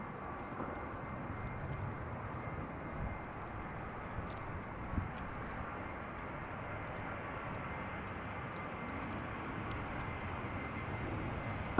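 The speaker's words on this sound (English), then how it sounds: "A321 will probably land on Polderbaan then" An Airbus A321 landing on the Polderbaan runway at Amsterdam Schiphol, a steady, faint, distant jet roar that holds without a break.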